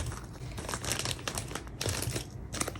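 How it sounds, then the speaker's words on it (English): A sticker binder being grabbed and handled, with dense crinkling and crumpling of plastic sleeves and pages, close and steady throughout with a few sharper rustles, no voices. "Let me grab my sticker binder for that."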